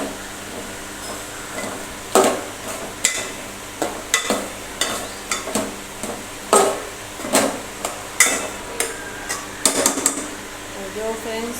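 Boiled potatoes mixed into spiced masala in a pan for a dry potato bhaji in a home kitchen: repeated spoon clanks and scraping against the metal pan in an uneven rhythm, close and fairly loud over a faint background hum.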